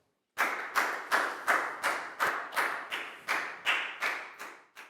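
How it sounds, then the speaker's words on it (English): A class gives a round of applause to a student during a primary maths lesson, about a dozen evenly spaced bursts of close clapping, steady and rhythmic, with no talk over it. "High five and a big round of applause for Net, please, guys."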